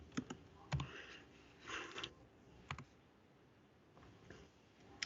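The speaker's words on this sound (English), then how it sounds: "we're both typing" Quiet computer keyboard typing, a few scattered clicks and short bursts of keystrokes with pauses between them, faint and close.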